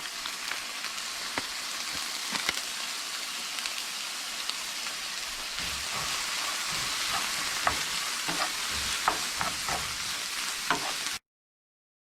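Poblano pepper, onion and spice blend sizzle steadily in a hot pan, a constant crackling hiss with scattered pops and occasional stirring scrapes, fairly close and uninterrupted until it cuts to silence at the end.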